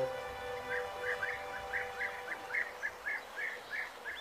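Bee-eaters in a colony on the sandy shore of Lake Prespa give a run of short, rolling chirps in quick succession over a steady background hum, moderately close and clear.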